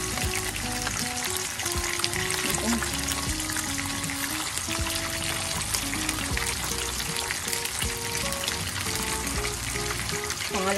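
Pork belly for lechon kawali sizzles in hot oil on its second deep fry, a dense, continuous crackle and spatter that stays loud throughout with no talking.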